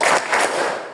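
A short burst of children clapping together during a classroom clapping game led by a teacher, two or three quick claps from a group close by, then fading.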